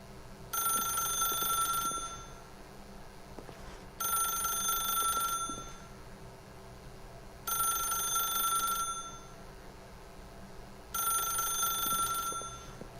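A telephone rings in the video game The Stanley Parable, four evenly spaced bright ringing bursts of about a second and a half each with quiet gaps between them, clear and alone.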